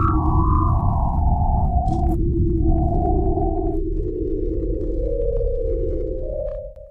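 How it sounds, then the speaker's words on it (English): An eerie radio signal attributed to the planet Gliese 581d plays as loud, sustained electronic tones that step and slide between pitches over a deep rumbling drone, then fade out at the end. "a signal was received from one such planet, Gliese 581d, a few years ago."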